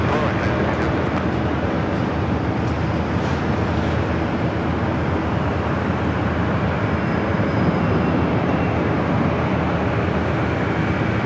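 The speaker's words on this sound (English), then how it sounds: "the Dreamliner rolling down to 25 right, heading to Newark" A Boeing 787 Dreamliner rolls along runway 25 right at Los Angeles International Airport, heard as a steady, broad roar of jet engine noise that holds constant and loud throughout, with no distinct onset or fade.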